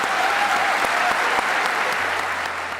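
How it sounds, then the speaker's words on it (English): Full, dense audience applause for speakers at a West Point podcast event, loud and sustained with a few sharper claps poking through, holding steady for nearly three seconds. "please give them a round of applause."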